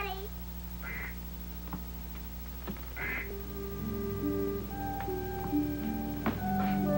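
A duck quacks twice, a few seconds apart, fairly close, over a constant low hum, with soft musical tones rising in the background.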